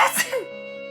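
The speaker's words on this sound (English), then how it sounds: "I think I might have caught a case of sniffles too." A short sneeze burst with a sniffly, breathy edge, followed by a sustained tonal hum in the background.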